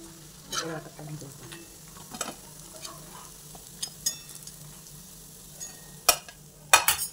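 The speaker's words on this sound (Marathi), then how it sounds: "आपण ह्या सर्व वड्या आता अशाच तळून घेऊ" Soft, quiet frying of dill (shepu) vadis in oil with faint sizzle, punctuated by scattered clicks and scrapes of a utensil stirring in the pan.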